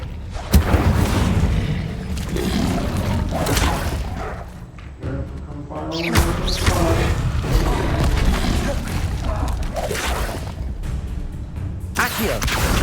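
Incendio fire spell blasts in a Harry Potter video game, heavy booming whooshes and crackling bursts layered over continuous loud game effects and ambience, with several thumping impacts across the stretch.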